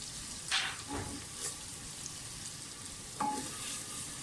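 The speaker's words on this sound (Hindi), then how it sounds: "प्याज हमारे फ्राई होना शुरू हो गए हैं। अब इसमें साबुत मिर्च और जीरा डाल दें।" Onions fry with whole chilies and cumin in a clay pot, giving a quiet, steady sizzle with a few light clinks of a spoon against the pot.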